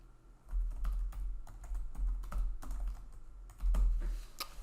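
Fingers tap out a software name on a computer keyboard, a quiet, irregular patter of close clicks in short bursts over a low background hum.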